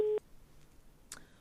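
A telephone busy tone on a radio call-in line after a dropped call: a short tone burst at the start, then another brief tone a second later, over quiet background hiss.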